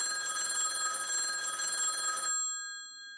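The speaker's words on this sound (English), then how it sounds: "But that's when the phone rang." A telephone bell rings steadily and close, a bright continuous trill that stops abruptly near the end, leaving near silence.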